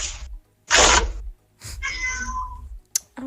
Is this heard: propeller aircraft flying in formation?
no